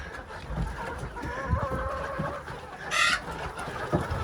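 A hen clucks nearby in a short series of soft, uneven clucks, with one sharper, louder squawk partway through and no talking.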